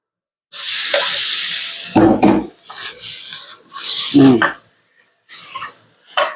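Giant Mekong catfish pieces dropped into a hot pan for a spicy Thai stir-fry, bursts of sizzling with spatula scraping, alternating with someone talking nearby.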